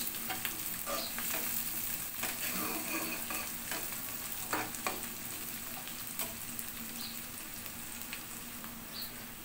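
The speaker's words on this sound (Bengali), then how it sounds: "রসুনটা দিয়েও আমি পেঁয়াজের সাথে ভালো করে নেড়ে চেড়ে ব্রাউন করে নিব।" Peeled garlic cloves and onions fry and brown in a pan, a continuous close sizzle broken by frequent scraping and clacking as they are stirred.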